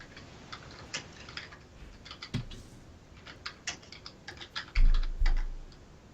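Rapid, uneven clicking of keys on a computer keyboard continues throughout, fairly close and quiet, with a couple of heavier thuds near the end.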